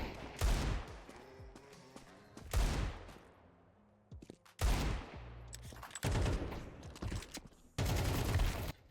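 Video game gunfire comes in several loud, sharp bursts of rapid shots separated by short quiet gaps, with no talking.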